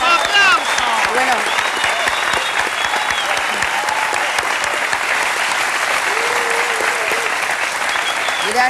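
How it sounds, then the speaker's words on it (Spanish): A live comedy show audience breaks into loud, sustained applause, dense clapping from a full crowd that continues throughout, with some cheering and a voice over it. "Un aplauso para ustedes mismos, por favor. ¡Aplauso, aplauso!"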